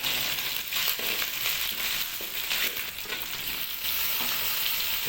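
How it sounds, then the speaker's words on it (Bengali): Ginger garlic paste sizzles and spits steadily in hot oil for a chicken liver curry, with occasional scrapes of a spatula stirring it, close and continuous with no talk. "হালকা নেড়ে নিতে হবে আদরক রসুনটাকে"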